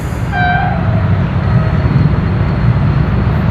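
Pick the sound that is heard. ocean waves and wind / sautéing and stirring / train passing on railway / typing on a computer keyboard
train passing on railway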